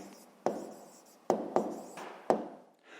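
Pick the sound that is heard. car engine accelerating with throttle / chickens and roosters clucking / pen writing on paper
pen writing on paper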